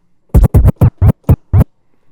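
DJ turntable scratches combining basic scratch patterns over a kick, six sharp, loud, separate strokes in a quick rhythm over about a second and a half, with silence before and after.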